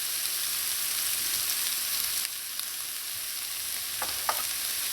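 Saltfish with black pepper and fish seasoning sautés in a pan, giving an even, continuous sizzling hiss with a few faint stirring clicks near the end.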